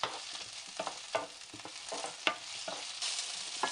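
Onion and capsicum sautéing in a pan for chilli paneer, with a steady sizzle and frequent scraping, stirring strokes of a spoon against the pan, close and alone with no talk.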